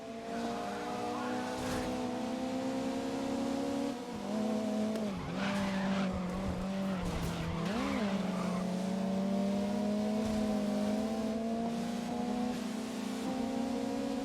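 A damaged BMW races in the video game GRID (2019), its engine droning and shifting pitch steadily while tires squeal and skid through corners, loud and continuous.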